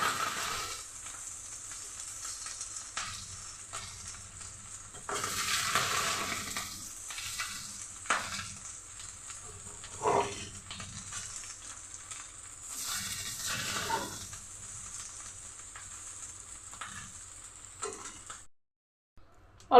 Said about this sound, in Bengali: দিয়ে একটু নেড়ে চেড়ে দিচ্ছি।